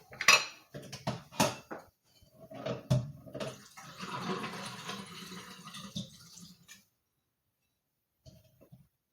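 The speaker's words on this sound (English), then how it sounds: "Put the knife and the fork in the sink." Knife and fork dropped into a kitchen sink after pizza prep, a cluster of close metallic clatters and clinks early on, then running water and handling sounds, ending in near silence.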